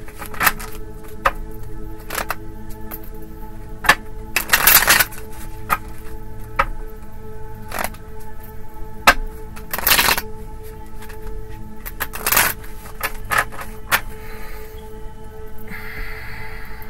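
Tarot cards being shuffled close up, several bursts of riffling and flicking separated by quieter pauses with soft card handling and light breaths, and no talking.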